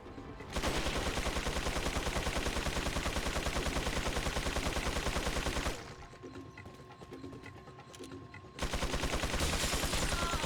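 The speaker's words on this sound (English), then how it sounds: "He's still shooting over here?" Sustained rapid gunfire from an enemy in the video game Assignment Ada, loud and dense for several seconds, easing into a quieter stretch with a steady tone, then bursting back at full intensity.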